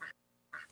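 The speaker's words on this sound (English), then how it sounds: "here's our other ducks." Pekin ducks on a homestead give two short, fairly faint quacks separated by a brief quiet gap, with no talking over them.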